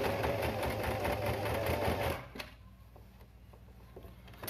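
Sewing machine stitching the other side of a fabric face mask, a steady fast whir of needle strokes that runs loud for about two seconds and then stops, leaving quiet room sound.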